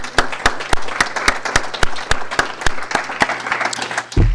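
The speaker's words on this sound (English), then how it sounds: "I personally would like to applaud you once again" At the WCWP Hall of Fame induction ceremony, sharp claps ring out in a rhythmic series with even spacing, each hit crisp and distinct against a quiet hall background.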